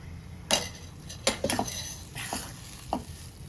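Sheera with sugar and ghee is stirred in a pan, with several distinct spoon scrapes and clinks against the metal over a low sizzle, close and with no voices.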